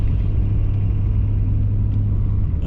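A vehicle on BFGoodrich KO3 all-terrain tires pushes into deep snow, giving a steady low engine rumble and drone that holds even and close throughout, with no one talking.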